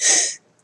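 A single short, breathy sneeze bursts out close by, then cuts off into near silence.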